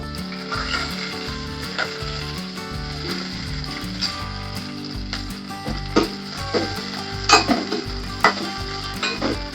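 Green chilli, garlic and cumin paste fries in a pan with a steady sizzle that runs under louder rhythmic music, with a few clinks from utensils.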